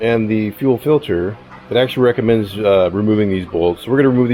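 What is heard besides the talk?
None of the usual background noises is heard.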